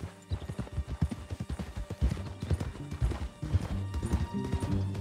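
Horse hooves trot in a steady clip-clop rhythm in the Red Dead Redemption 2 video game, close and fairly loud, with a brief whinny mixed in and no talking.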